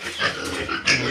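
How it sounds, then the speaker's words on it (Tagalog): Pigs grunting and squealing for feed, short rough snorts and one louder high squeal near the end, close and without any talk. "Yung mga baboy."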